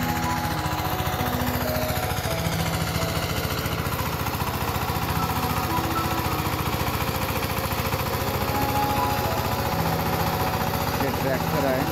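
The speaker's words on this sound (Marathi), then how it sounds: "ट्रॅक्टर आहे," A tractor engine runs steadily in a monsoon paddy field being prepared for rice sowing, a loud continuous chugging rumble for the whole stretch, with voices faintly mixed in.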